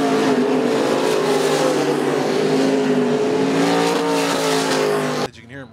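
IMCA modified race car engine revving hard at Central Arizona Speedway, a loud sustained roar with shifting pitch that holds steady for about five seconds before cutting off abruptly, with a commentator talking over it.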